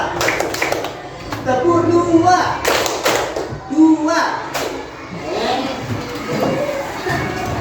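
A class of children claps hands in a counting clap game, with sharp overlapping claps in bursts mixed with voices talking and calling out.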